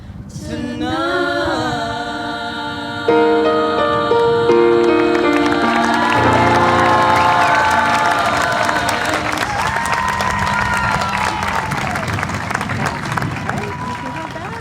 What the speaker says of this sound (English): Let's get one more round of applause for our concert band and members of our senior chorus.